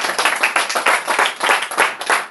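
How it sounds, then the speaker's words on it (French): A church congregation in Burkina Faso claps in praise, a dense run of hand claps with a rough rhythmic pulse, loud and close, with no voices. "Veuillez applaudir pour le Seigneur."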